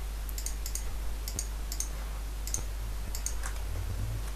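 Sharp mouse clicks while playing Minecraft, arriving in small clustered bursts of two or three quick taps spread across the stretch over a low steady hum, close and crisp with no talking.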